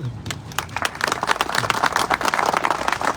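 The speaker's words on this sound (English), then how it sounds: "So how about a round of applause?" Applause from an audience gathered outdoors for a racing memorial marker unveiling, a dense patter of many hands clapping steadily for a few seconds.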